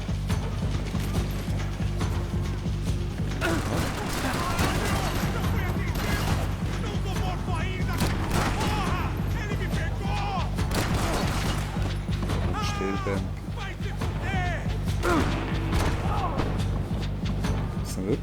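Gunfire from the Max Payne 3 shooter game, dense mechanical clatter and repeated shots running continuously over a steady low hum, with voices faintly mixed in throughout.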